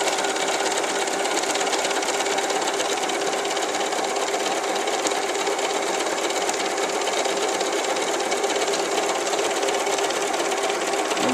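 An Elna Lotus computerized sewing machine stitches a hand-stitch effect pattern, its steady, fast motor whir and needle chatter running continuously and loud at close range, with no talking.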